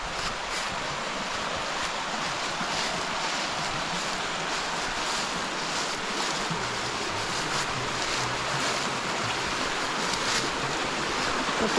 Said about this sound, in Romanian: Uitați ce frumos curge apa.